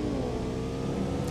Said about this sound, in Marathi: गाडी आली